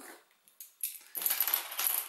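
Coins dropped onto a table while setting up the board game Félix El Gato Encerrado: a few scattered clinks at first, then a busier run of jingling metallic clatter, close and fairly quiet, with no talk.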